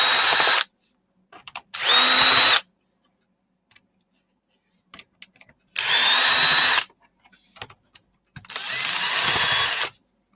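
A power drill pulls screws out of aluminium scrap in four loud, sustained whirring bursts of about a second each, separated by quiet gaps with small clicks and handling noises.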